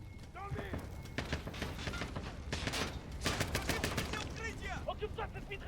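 Machine gun fire in the video game Call of Duty: Modern Warfare (2019) rattles in quick, crackling bursts at low level, with voices shouting over the shooting.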